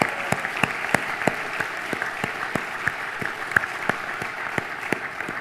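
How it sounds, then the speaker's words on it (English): Audience applause for Goodwill Industries workers at a governor's event, steady clapping from a crowd in a hall, moderately loud and sustained without voices. "let's give them a big shout out and a round of applause"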